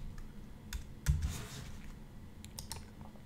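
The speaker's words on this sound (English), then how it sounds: "So let's type something here." Quiet, close typing on a computer keyboard, a brief run of soft, irregular keystroke clicks with no voices.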